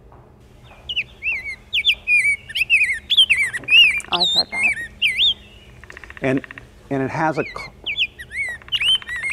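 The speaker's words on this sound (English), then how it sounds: "the rose-breasted grosbeak has a call note" Bright, robin-like song of a rose-breasted grosbeak with varied warbled phrases repeats throughout, with people talking over parts of it.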